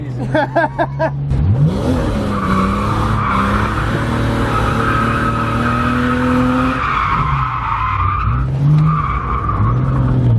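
A drift car with a welded differential skids and slides, tires squealing loudly and continuously over a revving, droning engine that rises and falls as it holds the drift, close and dominant throughout.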